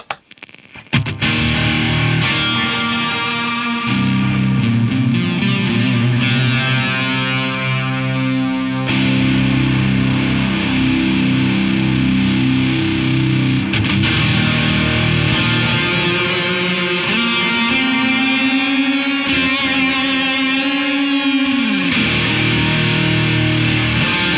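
Electric guitar run through a drive pedal with Figure 8 FX Quasar and Sonorus effects, playing sustained overdriven chords and melodic lines, loud and continuous throughout with no talking.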